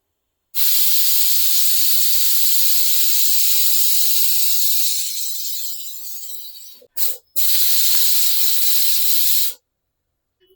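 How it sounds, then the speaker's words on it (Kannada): A pressure cooker cooking chicken kurma lets out a loud, sustained, hissing steam whistle for several seconds. The whistle breaks off briefly, resumes, then cuts out abruptly. "ಕುಕ್ಕರ್ ಲಿಡ್ ಕ್ಲೋಸ್ ಮಾಡಿ 1-2 ವಿಸಿಲ್ ಬರೋಕ್ಕೆ ಬಿಡೋಣ."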